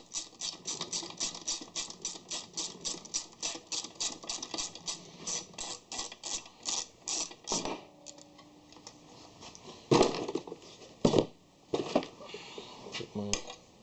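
A hand ratchet drive loosens a bolt on a Corvette seat, giving a steady run of quick, close clicks that later turns into a few sharper scattered ratchet clicks and knocks.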